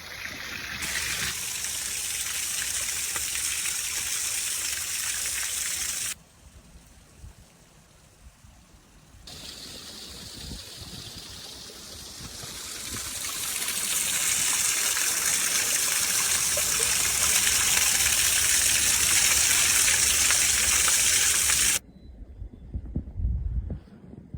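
Water rushes and gushes steadily beside a frozen waterfall, a broad outdoor roar that shifts in loudness as the position changes. It drops to a quieter stretch midway and ends with a few low thumps.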